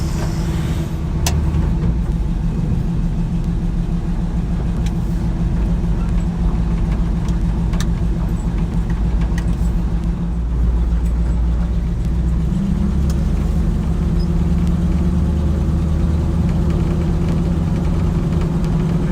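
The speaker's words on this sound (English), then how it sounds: "Truck's running pretty good." A 1955 Chevy truck's engine runs steadily while driving, a loud low rumble with a constant hum and a slight shift in pitch partway through, heard from inside the cab with no talking.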